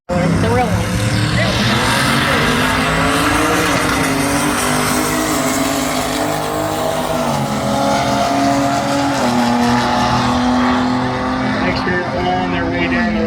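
Drag racing cars roar down the strip at Cordova Dragway, loud engines revving and rising in pitch as they accelerate, a continuous dense mechanical roar with a commentator's voice audible beneath it.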